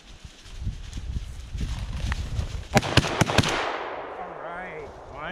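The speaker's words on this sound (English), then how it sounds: "All right, finally, nice shooting, Tom." Several sharp gunshots crack in quick succession during an afternoon hunting walk with a dog, set against rustling footsteps and outdoor background noise, followed by a faint voice.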